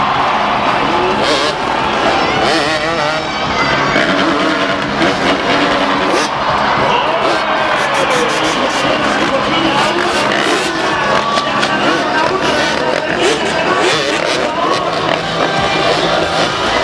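Motorcycles racing around a bullring arena at a freestyle motocross event, engines revving and roaring continuously and loudly over a busy crowd, with bursts of acceleration throughout.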